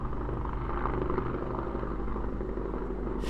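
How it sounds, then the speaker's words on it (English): A helicopter flies over a house, a steady low rotor rumble droning throughout without fading, with no talking. "there's a lot of helicopters that fly out of my house"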